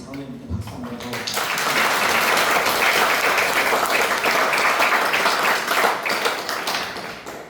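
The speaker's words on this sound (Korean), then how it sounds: "우리 장로님께 박수 한번 더" A church congregation at a Sunday praise service claps for their elder, a full, dense wave of applause that swells quickly after a brief voice and holds steady and loud for several seconds.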